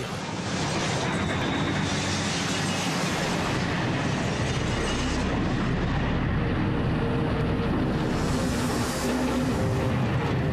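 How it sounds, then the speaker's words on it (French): An airplane touching down on the tarmac in a belly landing with full fuel tanks gives a loud, continuous roaring rumble and grinding scrape that stays dense and unbroken for about ten seconds, with no speech over it. "L'avion touche le tarmac."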